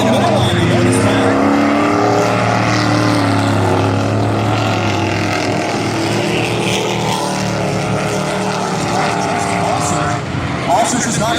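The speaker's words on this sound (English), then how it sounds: "it's completely dry and going to be a fast track for all the trucks and cars here" Trucks race in a heat on a dry dirt oval raceway, their engines producing a loud, continuous roar with shifting pitch as they circle, and an announcer talks over the noise.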